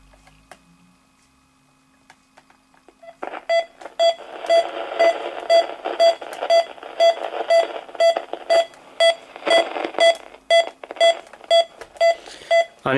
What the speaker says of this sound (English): And it seems that with the normal beeping, you can have the radio coming through as well.